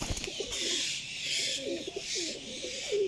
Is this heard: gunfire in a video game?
no